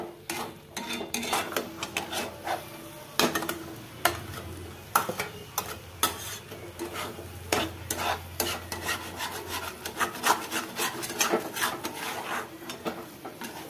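A spatula scrapes and stirs egg bhurji in a frying pan, village style. The strokes are repeated and rhythmic, scratching across the metal, with a soft sizzle underneath throughout, close and steady with no talk.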